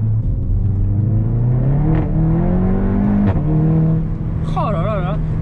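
Seat Leon accelerating hard through the gears with wheelspin in second: engine note climbing steadily and loud inside the cabin, with a short voice near the end.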